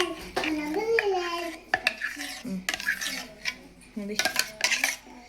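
Blended homemade ice cream mixture is scraped and poured from a mixer jar into a box, with close clinks and knocks of a spoon against the containers under a woman's brief speech.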